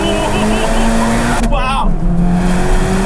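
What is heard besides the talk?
car accelerating quickly toward redline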